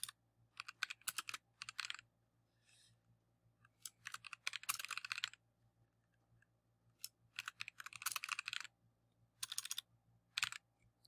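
Computer keyboard typing in quick bursts of close, crisp key clicks with short pauses between them, over a low steady hum and with no voices.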